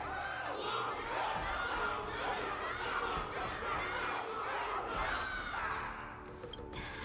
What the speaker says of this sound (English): Can't you hear? Everyone's cheering for you